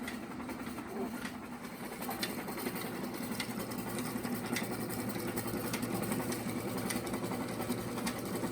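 A yarn skein winder runs inside a small wool mill, making a steady mechanical whir and hum with faint regular clicks throughout.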